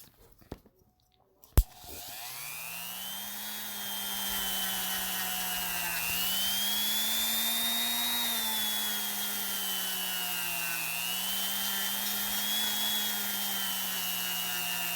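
A small rotary power tool whines steadily while sanding a 3D printed Lego Bionicle mask, starting up after a couple of faint knocks and then running continuously up close, its pitch dipping and rising slightly under load.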